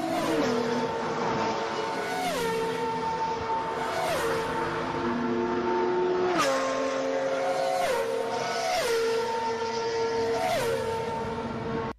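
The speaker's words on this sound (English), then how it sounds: "someone in Reddit made a comparison of the speed difference between GT and F1 cars" GT and F1 race cars scream past on a circuit in repeated fly-bys, each loud engine note dropping sharply in pitch as it passes, with several cars following in quick succession.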